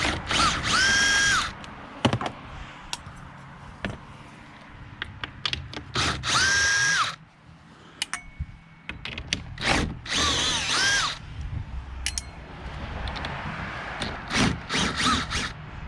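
Power drill removing the bolts from the side mirror of a 2017-2022 Ford Super Duty, several loud whirring bursts close by, with ratcheting clicks and handling noises between them.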